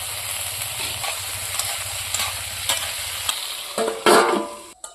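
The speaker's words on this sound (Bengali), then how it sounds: "ভাজা তেলের মধ্যে দেখুন বেগুন ভাজি নিব" Eggplant slices frying in hot oil with salt alongside potato, a dense continuous sizzle with stirring clatter, loud and close, rising in a burst toward the end.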